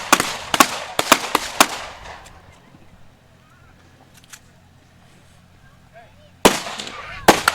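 Rifle shots ring out at a plate rack during a Memorial 3-Gun shootoff: a fast string of sharp, loud cracks, a quiet pause, then more shots in quick succession.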